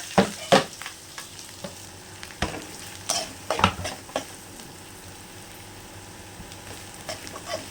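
Mustard seeds, green chillies, onions and curry leaves sizzle in hot oil, with sharp spoon scrapes and clinks of stirring in the pan over a soft, steady fry.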